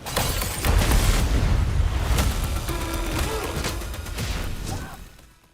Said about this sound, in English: Is that C4? BFE, big fucking explosion.